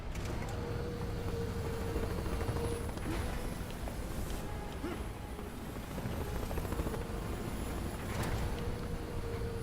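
A steady, continuous helicopter rotor drone with engine rumble, fairly distant and unchanging throughout, over a dense mechanical background, in the video game Marlow Briggs and the Mask of Death.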